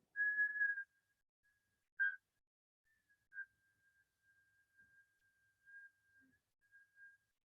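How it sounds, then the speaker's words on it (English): During a breathing exercise a person whistles one steady high note, then lets out a few shorter, fainter whistled breaths that taper off, with no talking. "and whistle"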